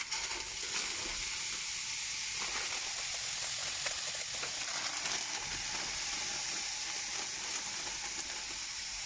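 Frozen cauliflower rice sizzling in a dry, oil-free pan, a steady, fairly quiet hiss of steam and frying that runs unbroken, with occasional faint stirring scrapes.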